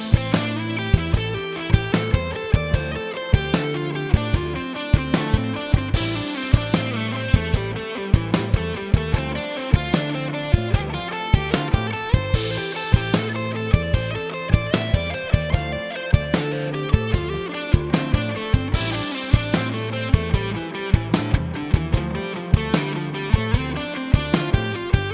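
Electric guitar plays an unbroken run of minor pentatonic scale notes, sliding through all five positions in a steady, even rhythm with light distortion, close and alone without any voice.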